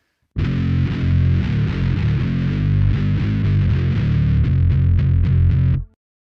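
A bass guitar plays a run of notes through heavy, fizzy distortion from a Line 6 Helix, loud and continuous for several seconds before cutting off.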